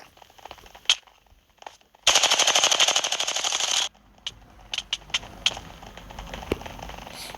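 Rapid automatic gunfire bursts for about two seconds in the video game Craftmania, bracketed by scattered clicks and sharp single shots, like game weapon effects.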